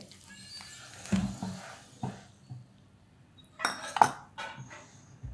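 A spoon clinks and scrapes against a bowl while mixing thapi vadi ingredients with green chilli, coriander and hot oil, giving a few sharp metallic knocks with quiet pauses between them.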